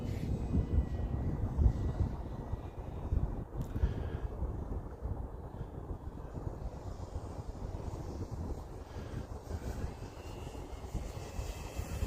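Steady, loud rushing roar of wind streaming past an Arrows Husky 1800mm RC airplane in flight, with a faint high whistle, continuous for the whole stretch and no talking.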